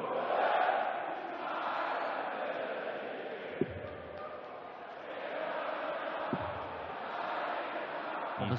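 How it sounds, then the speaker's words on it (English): A darts arena crowd at the Danish Darts Open belting out Danish folk songs together, a broad, sustained roar of massed voices heard from a distance, with a couple of sharp thuds cutting through. "a number of Danish folklore that's been belted out by the crowd"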